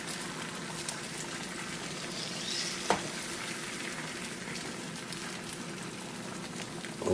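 Lightly beaten eggs fry in a pan with a continuous crackling sizzle that holds steady throughout, with one brief louder tap near the middle.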